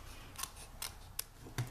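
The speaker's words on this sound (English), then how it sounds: "take paper snips and cut the excess right off the bottom" Paper snips cut off the excess paper at the bottom of a handmade greeting card, giving four quick, crisp snip sounds spaced about 0.4 seconds apart, close and fairly quiet.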